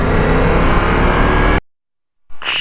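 A 2022 Ducati Multistrada V4S motorcycle engine roars loud and close for about a second and a half, then cuts to near silence before a short burst of noise returns.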